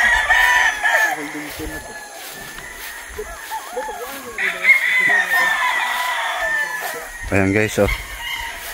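Roosters crowing across a gamefarm range, several calls near and far overlapping, with clucking and someone talking between the crows.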